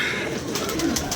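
Domestic pigeons coo softly at a loft, a low murmuring call that carries on steadily over a faint background hiss.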